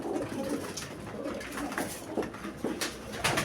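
A male pigeon of a famous racing line coos in soft repeated calls up close, with scattered rustles and bumps from the coop around it.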